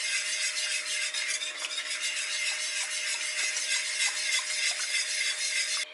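A spoon stirs bechamel sauce seasoned with salt and pepper in a pan, making a steady close scraping and soft bubbling sound that continues without pause.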